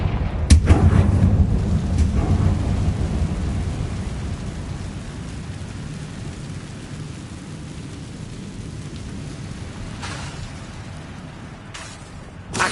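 Confringo fire spell cast in Hogwarts Legacy: a heavy booming blast at the start that rolls off into a long fading rumble, with a couple of faint later thumps.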